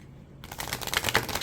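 A new, slightly stiff oracle card deck being shuffled, starting after a short quiet moment and turning into a rapid, crisp riffling flutter of cards close to the listener.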